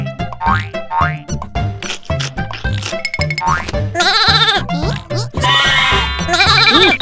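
Cartoon sheep bleat in a rapid, wavering string of high calls toward the end, following bouncy boing-like effects and music in a children's animated show.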